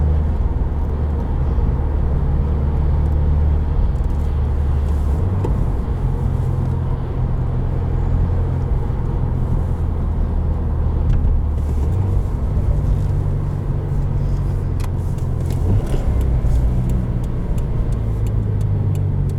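A 2019 Subaru WRX heard from inside the cabin while driving, its engine giving a steady, loud drone with a low rumble and small shifts in pitch as revs are matched between gears.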